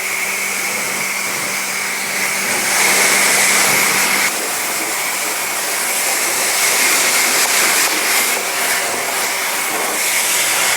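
Pressure washer spraying a car during a detailing rinse, a steady loud hiss of water jet with slight surges in intensity, continuous and close, no voices.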